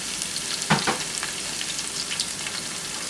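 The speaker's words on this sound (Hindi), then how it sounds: "उसके बाद बीच में आप ऐड करेंगे यहीं पे जो आपके अनियन है" Onions hit hot oil with cumin for a cabbage and chickpea dish, a loud continuous frying hiss with a brief thump and scrape as they are added and stirred.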